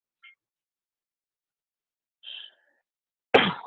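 A single sharp sneeze bursts out near the end, close and loud, preceded by a couple of faint small breathy sounds in an otherwise silent room.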